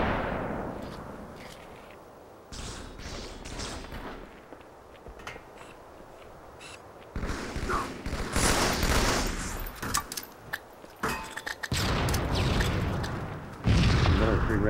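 Sniper rifle fire in an online multiplayer shooter game comes as bursts of loud booming shots and explosions in several clusters, mixed with dense battle noise.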